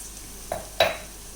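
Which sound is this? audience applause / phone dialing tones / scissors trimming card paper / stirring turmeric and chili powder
stirring turmeric and chili powder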